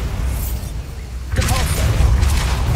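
Bombarda blasting spell exploding in the Hogwarts Legacy video game, a sudden burst about halfway through followed by crackling debris, after a stretch of low rumbling game ambience.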